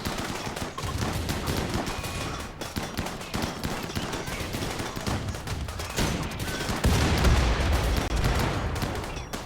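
A Rimworld raid fills with dense, continuous volleys of gunfire and grenade blasts. Rapid overlapping shots and explosions continue throughout, louder toward the end.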